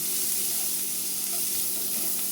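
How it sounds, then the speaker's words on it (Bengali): Onion and green chili frying in a pan for a prawn do-piaza curry give off a steady, close sizzle that runs unbroken throughout, with no voices. "এখানে পেঁয়াজ আর কাঁচামরিচ একটু হালকা লাল করে ভাজে নিচ্ছি"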